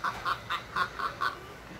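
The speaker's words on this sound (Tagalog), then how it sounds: "Miki, tingnan mo nga manok doon na" A chicken clucks in a quick run of six or so short, evenly spaced calls, moderately close over a quiet outdoor background.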